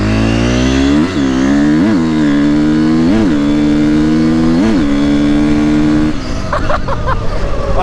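A custom KTM 350 XCF dirt bike engine drones loudly up close, broken by several quick rev blips in a steady rhythm, then drops off near the end.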